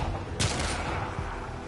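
A single standard-issue pistol shot in the Warframe video game, one sharp crack near the start that trails off over a steady background hum of game ambience.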